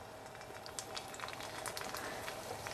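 Frozen pot stickers sizzle and crackle in warm oil in a pan, a steady hiss with scattered pops and spits, continuous and fairly close.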